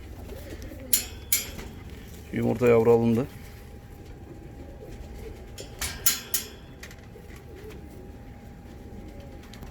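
A short burst of soft, low cooing from yellow Rostov fancy pigeons, surrounded by scattered clinks and brief bits of speech in a quiet room.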